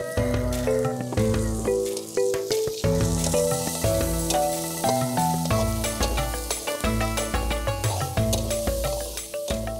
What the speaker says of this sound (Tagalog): gigisa na natin yung ating sibuyas at bawang